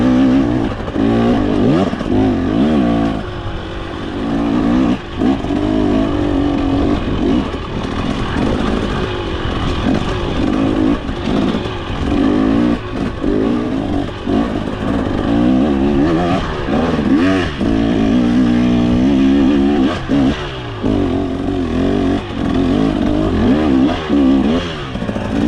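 A 2023 KTM 300XC dirt bike engine revs loudly and continuously up close, with repeated throttle blips and surging pitch over a steady rough mechanical drone, no talking.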